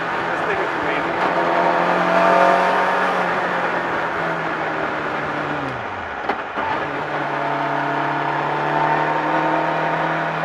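A Honda S600 engine, tuned to about 170 hp, revs high and loud in sustained whining tones that drop through a shift midway and climb again, heard close from inside the car with talk underneath.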